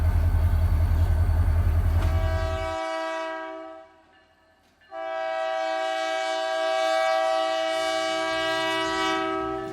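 Union Pacific freight locomotive 2726 on the former Katy Railroad line in Missouri sounds loud, sustained horn blasts, with a short break in the middle, over a steady diesel rumble close by.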